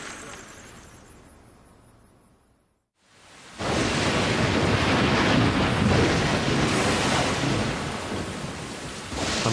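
Heavy early monsoon rain in India pours in a loud, dense roar with thunder rumbling, starting after a brief quieter lull and near-silence, then holding steady and close for the rest.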